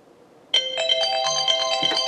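iPhone clock alarm ringing, a bright repeating electronic melody that starts abruptly and continues steadily, close and clear.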